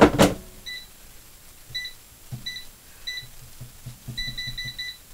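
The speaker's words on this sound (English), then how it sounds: "we're going to set our air fryer to 320 degrees for 6 minutes" Short electronic beeps from an air fryer being set to 320 degrees, a series of single and clustered tones with a quick run of repeated beeps near the end, close and clear with no talking.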